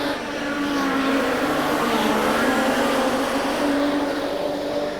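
A modified production speedway race car roars past on the final lap of a Queensland title A-main at Carina Speedway, loud sustained engine drone with steady high revs, close and continuous with no talk.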